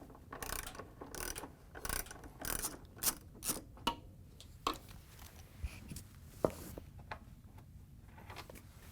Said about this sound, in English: we're going to use a 5/16 socket with a long extension